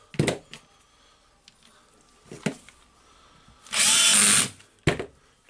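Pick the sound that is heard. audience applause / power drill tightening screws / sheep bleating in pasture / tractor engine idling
power drill tightening screws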